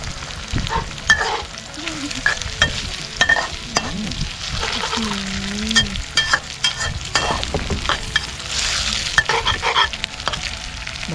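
Duck egg stir-fried with red cassava flowers sizzles in a pan while a utensil scrapes and clatters in quick irregular strokes, close up and busy, with a few faint background noises and no clear talk.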